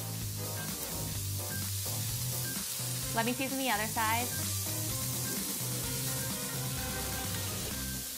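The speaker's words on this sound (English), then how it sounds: "Sizzle, sizzle, sizzle." Sausages sizzling in a hot pan, a bright steady hiss and crackle throughout with a brief burst of sharper spitting midway, under a voice talking.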